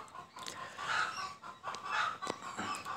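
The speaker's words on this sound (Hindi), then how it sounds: "लग रहा है मुर्गी ने अंडा दिया है" Hen clucking and squawking repeatedly in a noisy setting, a run of rough, broken calls over constant background hiss, moderately close.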